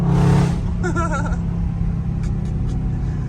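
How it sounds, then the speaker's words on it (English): A Dodge Scat Pack's loud engine rumbles steadily up close with a brief rising rev blip as it downshifts, low exhaust drone continuing underneath. "Listen to the downshift, bro."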